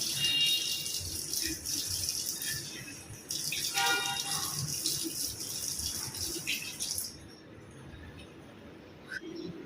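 Water runs steadily from a tap while a face is rinsed clean of a tomato face mask, a broad close hiss with splashing and small knocks that stops near the end.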